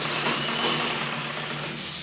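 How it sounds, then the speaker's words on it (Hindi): A sewing machine stitches elastic onto palazzo trousers, a brief steady mechanical whir running close and continuous for about two seconds. "हम कपड़े को पूरा लास्टिक के अंदर करेंगे, और फिर सिलाई लगानी शुरू करेंगे"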